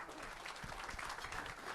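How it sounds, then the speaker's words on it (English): Applause from the crowd at a cattle fundraising auction in Berryville, Virginia, a steady dense clapping that holds at moderate level through the short moment with no one speaking. "very much deserved a round of applause"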